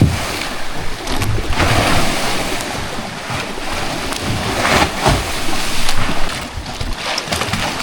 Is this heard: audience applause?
no